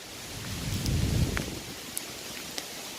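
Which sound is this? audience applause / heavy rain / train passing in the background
heavy rain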